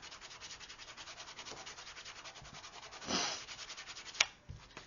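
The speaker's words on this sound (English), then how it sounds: "I'll take my bone folder and burnish that really good." Bone folder rubbed firmly across paper for a craft notebook, a soft rhythmic scraping with a brief louder swipe and a sharp tap near the end, alone and close.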